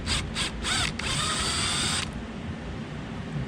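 A T20 Torx screw is backed out of a Ford Super Duty door with a ratchet, giving a few close clicking bursts followed by a second-long steady ratcheting run, then quiet.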